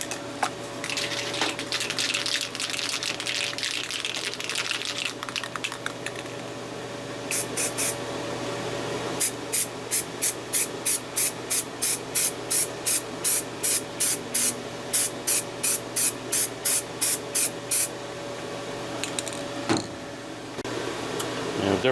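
Primer sprays onto the hood of a 1994 Saab 9000 CDE in quick, regular hissing bursts from a spray can, each pass short and sharp, with a steady background hum and no talking.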